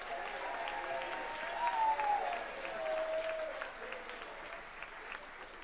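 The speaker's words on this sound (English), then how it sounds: "we'll give you a big round of applause also." Audience applause for a composer at a Gulfport High School wind ensemble concert, a quiet, distant steady clapping in a large hall, with a faint tonal whistle or voice rising through the middle.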